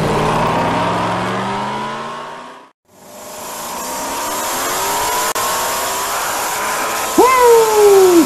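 Four pro street drag cars launching down a main-street strip, a loud roar of engines climbing in pitch that briefly cuts out, then builds again and ends in a sharp tire squeal.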